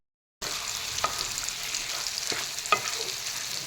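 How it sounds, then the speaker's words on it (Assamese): A cauliflower and chicken curry sizzles steadily in a hot pan while a spoon stirs and turns it, with a few soft scraping knocks against the pan over continuous frying hiss and no talk. "এইখিনি এনেদৰে তল ওপৰ কৰি লৰাই দি দিলোঁ।"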